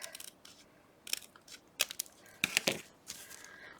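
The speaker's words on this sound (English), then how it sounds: "we're just basically going to cut our bag open here" Scissors cutting a strip off the end of a plastic mail bag, a series of quiet, crisp snips and crinkles spread irregularly, with louder clustered cuts near the middle and end.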